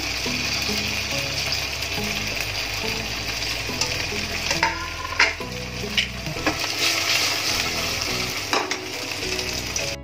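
Paneer cubes shallow frying in hot oil in a pan: a dense, continuous sizzle close by, with occasional spatula clinks and stirring clatter over a steady hiss.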